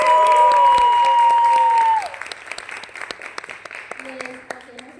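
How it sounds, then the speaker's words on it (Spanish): An audience applauds a presentation at a performing arts event, clapping starting under a loud sustained tone and voices, then continuing as scattered individual claps with talk. "Un aplauso por favor."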